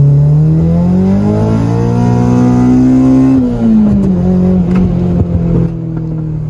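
A Honda K24-engined hatchback revs up through a newly fitted exhaust with a rising, throaty note, holds high, then drops back to a rough idle.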